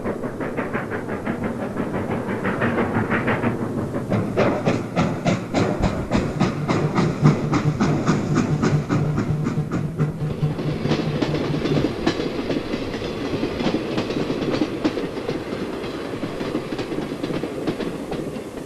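An Erie K-5 Pacific steam locomotive hauling a commuter train rolls past at Waldwick, New Jersey, with a loud, steady rhythmic clatter of wheels and a hiss of steam, holding close for the whole stretch.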